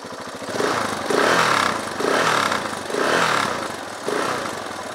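A 2010 KTM 690 SMC single-cylinder motorcycle engine runs close by, revving up and easing off in repeated loud surges over a rough, pulsing idle, no voices.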